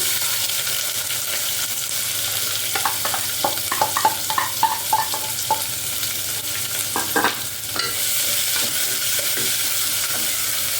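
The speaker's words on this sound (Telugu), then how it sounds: "ఇప్పుడు ఉల్లిపాయ వేస్తాం" Sliced onion sizzling in a hot pan while a spatula stirs it, steady frying hiss with a run of scraping clicks in the middle, close by and with no talking.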